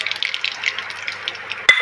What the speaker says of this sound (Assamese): ৰিফাইন তেলখিনি গৰম হ'ল এতিয়া মই দিম শুকান জলকীয়া দিলোঁ তাৰপিছত মই ক'লা সৰিয়হখিনি দিলোঁ